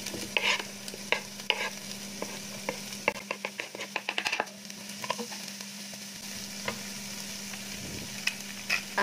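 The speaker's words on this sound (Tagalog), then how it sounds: "Sa mainit na pan, ilagay ang olive oil. And then, ang ating chopped onion. Igisa lang natin yan." Chopped onion sautés in olive oil in a hot pan with a gentle steady sizzle, while quick clicking strokes of a stirring utensil come in clusters, close and without talk.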